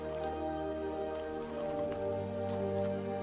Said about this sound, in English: this unexpected rainfall is a rare opportunity to quench their thirst